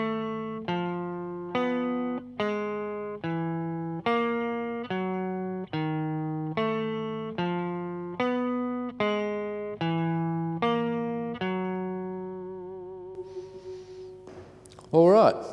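Electric guitar plays a chromatic exercise alternating between two strings, steady evenly spaced picked notes stepping up and back down, ending in a brief noisy scrape.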